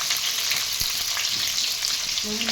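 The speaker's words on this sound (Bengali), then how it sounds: "তেল গরম হয়ে গেছে, এবার পটলগুলো দিয়ে দেবো" Pointed gourds hit hot oil with a loud, dense sizzle that crackles steadily throughout, close up and with no talking.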